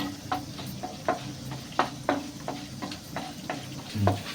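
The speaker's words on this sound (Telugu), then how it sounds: "ఇప్పుడు ఇందులో మినపప్పు, శనగపప్పు, జీలకర్ర, ఆవాలు ఇలా వేయించుకొని వేసుకొని వేయించుకుందాం." Spices (black gram, chana dal, cumin and mustard seeds) sizzle and crackle in hot oil for tempering while a utensil stirs with repeated scraping clicks against the pan, close and moderately loud.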